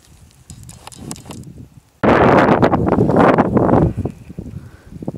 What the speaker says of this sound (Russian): Ветер и дождь начинается.